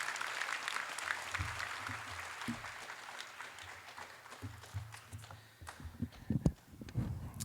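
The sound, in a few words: audience applause for the MCs at a class night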